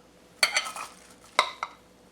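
Cups of vegetable mix for chilli tipped into a pot, giving a few clattering, rustling thuds in two clusters: one longer scrape and tumble, then two short knocks, close and moderately loud with no talk.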